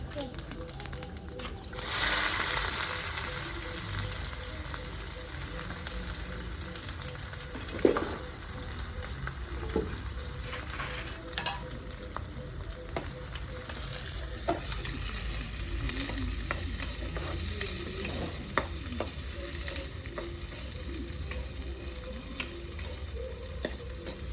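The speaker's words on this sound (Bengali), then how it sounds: "ঘুগনিতে দুটো তেজপাতা শুকনো লঙ্কা গোটা জিরে দিয়ে দিচ্ছি দিয়ে দেবো কাটা পেঁয়াজ" Bay leaves, dried chillies, whole cumin and chopped onion frying in oil for ghugni, opening with a loud hiss as they hit the pan, then steady crackling sizzle under a voice talking throughout.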